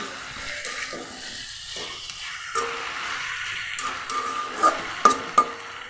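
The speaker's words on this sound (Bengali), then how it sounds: "আস্তে আস্তে মিষ্টি কুমড়ার ঘন্টটা আমি রান্না করে নামায় নিব" Pumpkin curry with fried fish heads cooks in a pan, with a steady low sizzle under repeated stirring and scraping, and a few sharper utensil clinks against the pan near the end.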